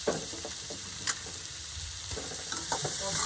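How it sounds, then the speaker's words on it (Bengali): Grated carrots sizzle in hot oil with carom and fennel seeds, a steady close frying hiss broken by a few sharp scrapes and stirring clatters. "গ্রেট করা গাজরগুলোকে আমি তেলের মধ্যে দিয়ে দিলাম"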